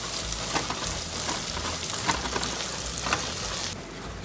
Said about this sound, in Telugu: సో ఇది కొంచెం ఫ్రై అయినాక లైట్ బ్రౌన్ అవుతుంది.